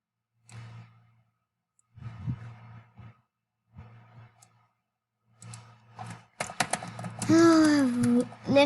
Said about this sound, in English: let me finish typing